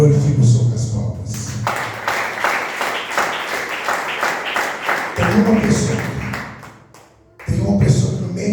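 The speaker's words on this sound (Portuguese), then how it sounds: "Glorifique o Senhor com as palmas." Church congregation clapping hands in praise during a worship service, a steady burst of many hands clapping together for several seconds between stretches of a preacher speaking.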